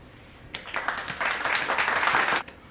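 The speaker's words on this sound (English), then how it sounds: "Round of applause." A short burst of hand clapping starts abruptly, builds into brisk, close applause for about two seconds, then stops sharply, leaving a quiet room.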